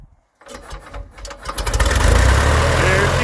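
Piper Cub, an ex-WW2 training airplane, has its prop spun by hand. A few sharp coughs follow, then its small engine catches and roars up to a steady, loud run close by.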